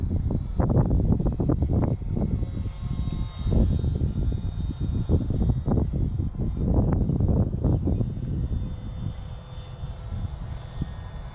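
Small propeller airplane in flight on a first solo-style outing, its engine droning steadily and loudly throughout with wind buffeting the microphone, the throttle holding a continuous roar.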